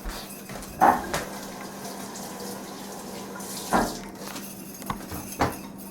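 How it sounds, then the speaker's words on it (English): Tap water runs steadily into a kitchen sink as hands get a quick rinse, a close continuous flow broken by a few brief splashes and knocks, with no one talking. "I'm going to give my hands a quick rinse."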